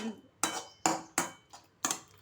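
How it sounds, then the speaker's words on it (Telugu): A metal ladle knocking against a pot or bowl while cooled tomato pieces are mashed for a curd chutney, five sharp clinks spaced irregularly about half a second apart, close and clear. "ఇప్పుడు ఈ టమాటా ముక్కల్ని చల్లారిన తర్వాత కొంచెం దీంట్లోనే మ్యాష్ చేసినట్టుగా కొంచెం దీన్ని ఈ గరిటెతోనే అనేసుకొని మనం పెరుగులోకి కలిపేసుకోవాలి"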